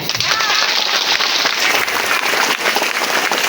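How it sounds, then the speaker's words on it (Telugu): A large crowd of pilgrims gathered for an Om Shakti temple trip claps loudly and continuously, a dense, even wash of applause with voices mixed in. "అందరూ గట్టిగా చప్పట్లు కొట్టాలి"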